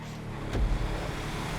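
A Drift Jester R car in a FiveM online race holds a steady engine drone, with a brief louder surge midway, no voices.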